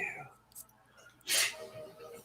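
A single short, breathy sneeze bursts out close by, with faint, quiet voices before and after.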